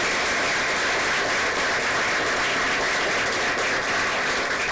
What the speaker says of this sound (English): So give them a round of applause as a whole group.